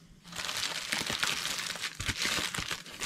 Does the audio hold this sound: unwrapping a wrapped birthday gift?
yes